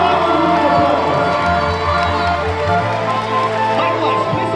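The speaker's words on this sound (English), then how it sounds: "Give up a round of applause, man." An audience cheers and applauds loudly for a senior collection presentation, a steady crowd roar mixed with music, with voices shouting through it.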